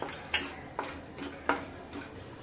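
Whole masala cardamom pods dry roasting in a pan, heard as sparse, faint metallic scrapes and taps of a spoon stirring against the pan at irregular intervals.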